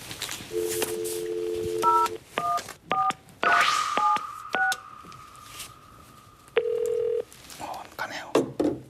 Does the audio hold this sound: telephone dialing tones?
yes